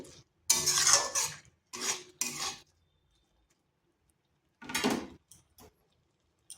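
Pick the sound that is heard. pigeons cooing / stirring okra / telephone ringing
stirring okra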